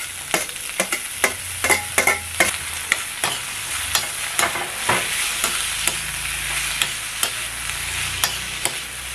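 Chopped tomatoes frying and being stirred in hot oil in a kadai for a mushroom gravy, with a steady close sizzle broken by repeated sharp scraping strokes of the spoon.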